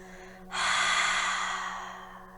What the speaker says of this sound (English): slowly and gently exhale through the mouth all the way, cleansing breath